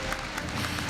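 Audience applause at a university entrance ceremony for incoming freshmen, a steady dense wash of many hands clapping at moderate distance in a large hall, continuous throughout with no pauses.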